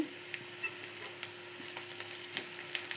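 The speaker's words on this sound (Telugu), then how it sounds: "ఇప్పుడు మనం సాల్ట్ వేసుకుంటే కొంచెం త్వరగా వేగుతాయి ఉల్లిపాయలు" Onions fry in a pan with pink salt, giving a steady low sizzle dotted with small crackles and light stirring clicks, close up and without talk.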